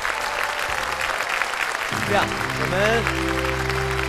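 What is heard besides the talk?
studio audience applause welcoming contestants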